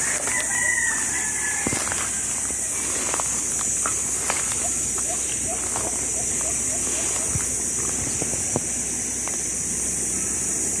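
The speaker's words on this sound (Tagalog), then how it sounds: "lawak ng manok" Chickens cluck and a rooster crows in a fenced yard on a hillside, small repeated calls standing out over steady outdoor noise and a constant high insect-like hiss, with footsteps passing now and then.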